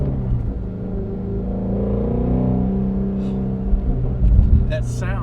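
A 2018-2021 Ford Mustang GT with the 10R80 transmission accelerating, a deep loud engine rumble heard from inside the car, swelling toward the end with a few faint higher noises.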